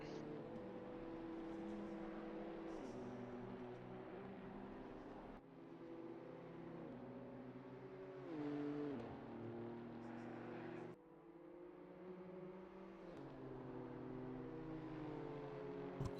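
BMW M2 race cars circling a track in the ACC racing game, a steady droning engine note with shifting pitch as cars rev and pass, continuous and fairly loud under commentators talking.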